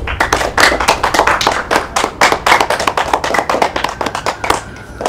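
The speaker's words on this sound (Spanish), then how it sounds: "Quiero pedir un fuerte aplauso" Dense, steady clapping from a group of students in a classroom, loud and close, continuing without pause for several seconds.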